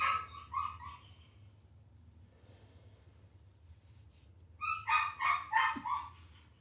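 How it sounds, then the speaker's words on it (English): A large dog barks in two bursts, a few quick barks at first, then a louder run of several barks after a quiet pause. "there's a dog that's kind of big barking at you"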